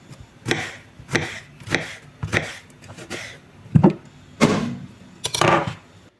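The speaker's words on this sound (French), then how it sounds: "j'ai râpé tous mes aubergines" Aubergines being grated by hand for a Moroccan zaalouk aubergine salad, heard as a series of about eight separate rasping strokes in an irregular rhythm, close and moderately loud, with no talking.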